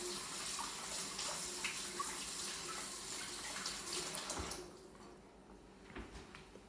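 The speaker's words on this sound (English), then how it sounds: "once I wash my hands here" Hands are washed under a running kitchen tap while preparing to bake cookies, a steady close rush of water for several seconds that then stops, leaving a quieter stretch.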